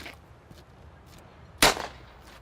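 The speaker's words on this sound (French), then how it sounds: "il y a des coups de feu" A single sharp gunshot crack rings out after a quiet stretch, loud and abrupt with a short tail.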